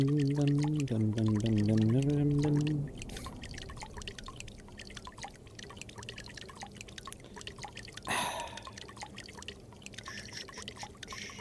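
In the VR game Ghosts of Tabor, water glugs from a big jug, a loud gurgling pour with rising pitch for a few seconds, then light drips and trickles follow, with a brief splash later.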